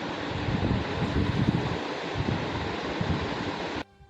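A BLDC ceiling fan running at full boost speed fills the room with a steady, loud rushing whoosh of moving air. The noise holds even for almost four seconds, then cuts off abruptly.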